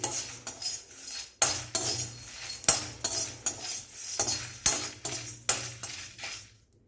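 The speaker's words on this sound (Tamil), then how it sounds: "நல்லா வாசம் வர வரைக்கும் நம்ம வறுத்தெடுத்துக்கலாம்" Fennel, cumin and black pepper dry-roasting in a pan as a spatula scrapes and knocks against the metal in quick, repeated strokes, close up. No one speaks and there is only a faint sizzle underneath.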